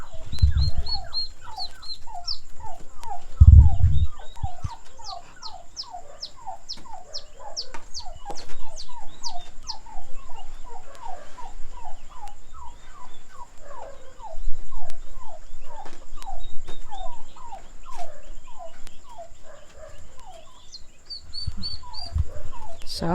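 A flock of turkeys gobbling repeatedly in rapid overlapping bursts, with a few low thumps and some background noise throughout.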